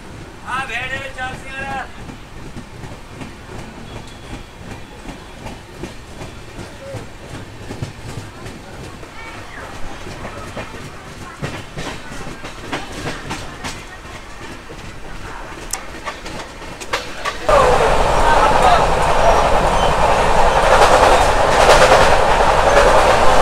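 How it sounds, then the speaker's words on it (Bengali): Heard from on board, the Kandari Express on the Howrah to Digha run rolls through Nalpur station without stopping. Rhythmic clickety-clack plays under a voice, then a sudden loud rush of wind and rail noise takes over near the end. "আমাদের ট্রেন এই মুহূর্তে থ্রু পাস করে বেরিয়ে যাবে নলপুর"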